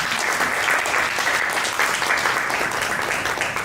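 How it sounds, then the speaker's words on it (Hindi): Dense applause from guests at a dental clinic party welcoming a new doctor, steady and close for the full stretch, with faint voices underneath. "प्लीज उनके तालियां मारो।"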